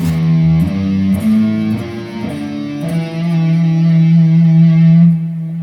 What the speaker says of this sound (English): So minor flat 5 sounds like this.